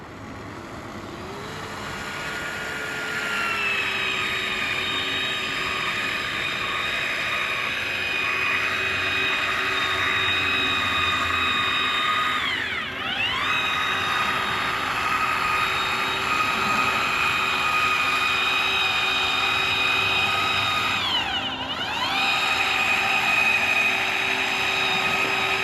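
Power Push 6000 AGR Maritool pneumatic gun shooting windshield glue on a 2017 Toyota RAV4, a steady loud whining air-driven drone running continuously, with two brief dips where the pitch drops and recovers.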